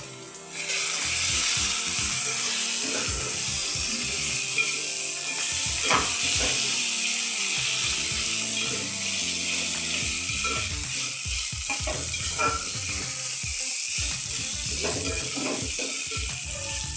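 Softened onions with garlic paste added, sizzling in a pan for an Akha Masoor curry, a steady close fry broken by frequent stirring scrapes and clicks.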